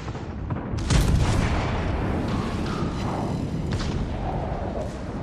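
The USS Alabama battleship's big guns fire in a naval video game, one heavy booming blast followed by a rumbling roar and further distant thuds.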